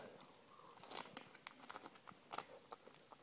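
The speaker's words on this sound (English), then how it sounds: "we've worked out the secret to getting Louie to chew" A dog gnaws on a chew soaked in KFC juice, producing close, quiet crunching and wet biting sounds in irregular bursts.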